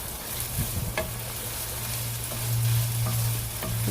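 Chicken strips with onion and garlic are stirred in a hot pan, a steady close sizzle broken by scraping stirring strokes and light clinks, with no talk.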